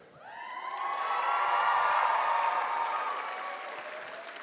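A conference audience bursts into applause, building quickly to a full round of clapping with a few cheers, then tapering slightly while still going.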